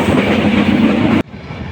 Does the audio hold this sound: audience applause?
no